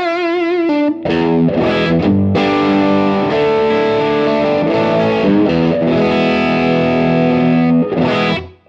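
Electric guitar played through a distortion pedal with the gain turned up, running into an amp; loud, sustained saturated chords and riffs ring continuously for several seconds before cutting off at the end.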